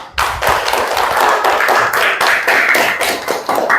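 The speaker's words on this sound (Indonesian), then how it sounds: "Ayo, kasih tepuk tangan untuk kita semua." A class of students claps together in a classroom, giving a loud, dense burst of applause with thumping hand claps that keeps going steadily throughout.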